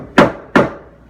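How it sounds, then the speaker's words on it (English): A rubber mallet taps twice on a worktop mason's mitre joint, giving two sharp, close knocks about a third of a second apart with short decays. "it needs to be a rubber mallet"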